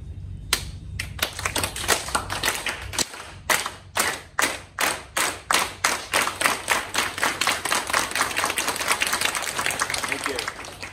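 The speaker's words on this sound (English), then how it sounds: "you make sure you get the round of applause in the beginning instead of at the end" A crowd claps in applause, building into steady, dense clapping that fills the room and holds without a break.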